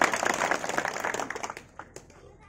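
Audience applause at a village sarpanch welcome ceremony in Amarsingh Wala, with a dense burst of clapping from a crowd that quickly thins into a few scattered claps and fades out.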